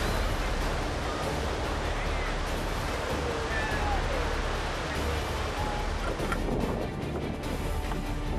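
Rough ocean waves crashing and surging around a small wooden fishing boat off Mauritania, a dense, continuous roar of surf and wind with a voice speaking beneath it.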